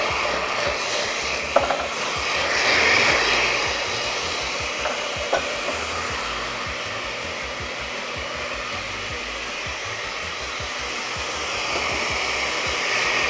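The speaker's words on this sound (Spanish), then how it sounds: "Toquecito de sal nada más y esto lo vamos a moler. Empieza a moler muy bien." Blender grinding chilies with a pinch of salt, a steady, loud whirring drone that holds for the whole stretch with no talking.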